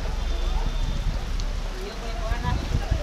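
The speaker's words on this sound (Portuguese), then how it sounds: "Agora a chuva não vai parar, não." Steady rain pours down at an outdoor amateur football match, a dense, continuous patter on surfaces close by, with people talking over it.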